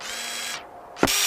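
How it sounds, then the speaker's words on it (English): A power drill in Teardown VR fixes a door shut, whirring loud and close for about half a second, cutting out, then starting again with a sharp burst. "Using a tool to drill the door shut is one of the ways tools can be utilized."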